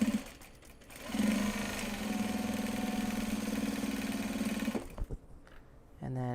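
A sewing machine stitches fabric for a project bag, its fast steady mechanical whir running for several seconds before stopping, with brief handling clicks and a short restart at the end, close up.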